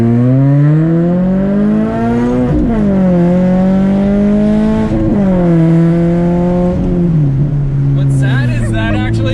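A Scion FR-S fitted with a TRD catback exhaust revs loudly up close, its deep droning note rising and falling in several throttle blips, continuous and aggressive throughout.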